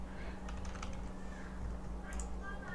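Keystrokes on a computer keyboard while filling in a web registration form, a quick irregular run of light clicks close by over a steady low hum, with a short burst near the end.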